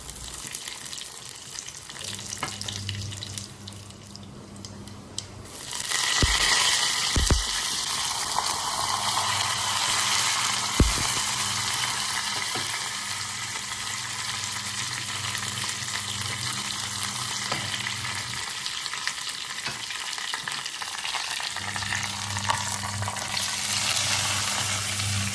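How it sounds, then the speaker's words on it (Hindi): Tadka tempering frying in hot ghee, giving a steady, close crackling sizzle that runs continuously, with a few sharp pops and clinks of a utensil along the way. "तो फिर मैंने सोचा मैं घी में फ्राई करके देखती हूँ।"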